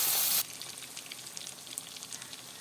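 Ground onion paste and broken dried chilli frying in a pan over low heat for onion thokku, a sharp loud hiss at first settling into a soft, crackly sizzle.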